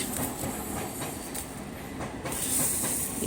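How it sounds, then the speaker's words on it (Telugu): A train rumbles past nearby, a steady low roar with faint rhythmic wheel clatter and a rising hiss toward the end; no voices. "ఏ వీడియో చేద్దామన్నా ట్రైన్ వచ్చేస్తుంది"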